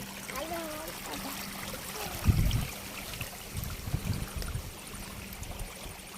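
Rainwater running through a flooded field after heavy rain, a soft steady trickle and flow with a few louder splashes, while people talk nearby.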